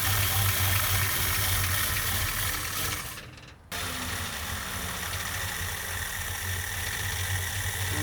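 A 1967 Ford Mustang engine running on poured-in gas with a fuel-starvation fault, a steady rough idle with rattle that briefly dips and cuts out before resuming, close and loud.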